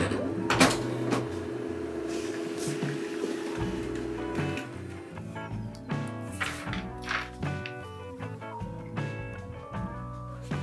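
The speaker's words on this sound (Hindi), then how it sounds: "अब मैं एक पिक्चर को प्रिंट करके देखता हूँ कि ये कैसा आता है" An HP Neverstop Laser 1200W all-in-one wireless laser printer runs through a picture print, giving a series of mechanical whirs, clicks and thunks with rhythmic feed noises, moderately close and without speech.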